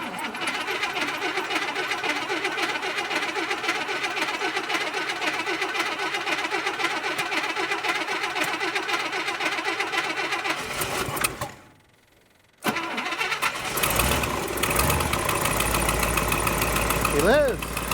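An International 1110 pickup truck's engine runs with a rough, mid-pitched rumble for several seconds, cuts out briefly, then restarts and settles into idle, with a person talking over it.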